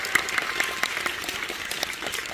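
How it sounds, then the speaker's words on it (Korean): An audience at a film screening Q&A claps for the three guests from Taiwan, giving brief, fairly sparse applause with distinct individual claps at moderate volume. "세 분께도 박수 한번 부탁드릴게요"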